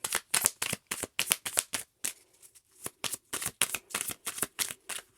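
A deck of tarot cards is riffled and shuffled by hand, with repeated quick bursts of crisp flapping, a brief pause midway, then more rapid shuffles, close and clear with no talking.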